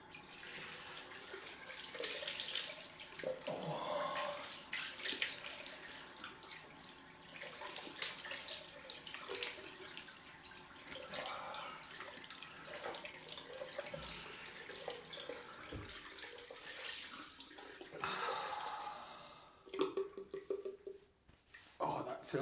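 Cold water runs from a tap into a sink for a rinse after a head shave, a faint continuous splashing flow with some movement under it.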